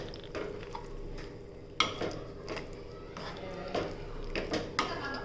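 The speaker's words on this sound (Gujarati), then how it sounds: "તેમાં મેસરની મદદથી આવી રીતના છે ને એકદમ ઝીણું કરી નાખવાનું છે." Boiled potato being mashed finely with a hand masher while making Mysore bhaji for dosas, heard as repeated soft squishy presses and scrapes against a pot at close range, with occasional sharper knocks.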